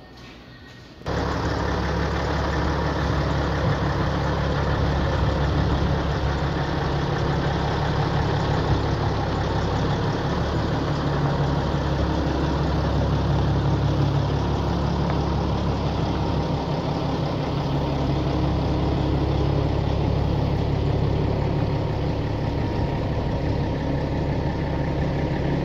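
A Kenworth W900L truck idles while chained and hooked up for towing, a steady low diesel rumble that starts abruptly and runs loud and unbroken, close by.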